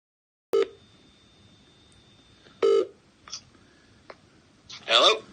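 A telephone number is dialed for a prize-winner call, with a few separate keypad tones and clicks spaced out over several seconds against a quiet line hiss, ending in a louder tone burst.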